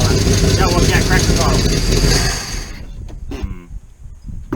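Engine of a 1975 Pontiac Firebird runs loud and rough for about two seconds, then drops to a quieter idle with some clatter.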